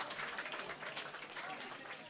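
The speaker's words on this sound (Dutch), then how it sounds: "Applaus mag." Faint, brief applause from a small party audience after a card trick, a quiet patter of clapping hands heard from some distance.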